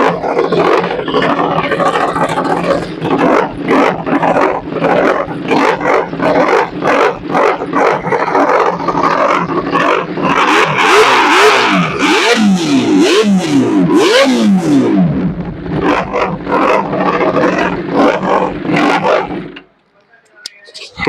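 A Kawasaki ZX-10R superbike with an Arrow full-system exhaust revs hard and close up, its engine note climbing and falling through a series of throttle blips before cutting off near the end.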